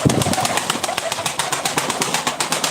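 Ankara tumbler pigeons at a live bird auction, cooing close by amid a quick run of sharp clattering pulses, with a voice speaking in the background.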